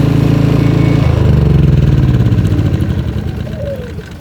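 An EcoFlow dual-fuel generator engine runs loud and close with a steady low chugging drone, its pitch shifting slightly after a second before it settles and gradually fades.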